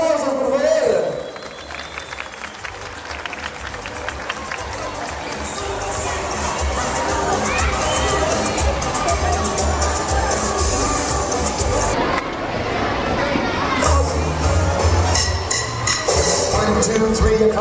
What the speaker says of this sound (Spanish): Que se escuchen los aplausos, por favor.